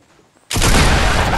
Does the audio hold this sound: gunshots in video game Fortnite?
yes